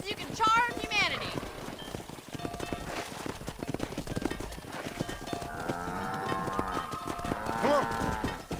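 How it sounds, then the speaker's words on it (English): Cattle lowing while driven along by riders on horseback in the Red Dead Redemption video game, with hoof clip-clop running throughout and mooing calls rising in the later half, near and moderately loud under scattered voices. "let's see if you can herd cows as well as you can charm humanity"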